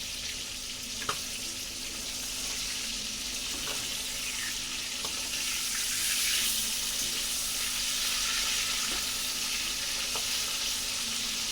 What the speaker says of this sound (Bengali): প্রথমত চিকেনটা তেল দিয়ে ভেজে নিচ্ছি, ভেজে রান্না করবো আজকে।